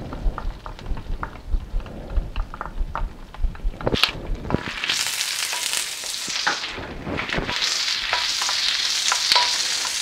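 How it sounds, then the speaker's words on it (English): Onion and garlic sautéing in a pan for Vietnamese yellow curry, a loud crackling sizzle that swells after a few stirring clatters early on and then holds steady. "What we want to do is we want to saute this for a little bit."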